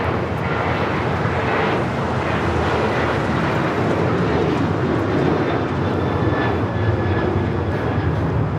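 A United Airlines Boeing 737-800 takes off at LAX with a loud, continuous jet roar that holds steady throughout, broad and rumbling from a moderate distance.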